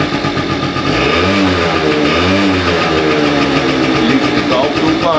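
A Pegasus Sky 50 moped with light crash damage runs close by, its small engine idling with a buzzy drone and rising and falling through a couple of revs, while a person speaks over it.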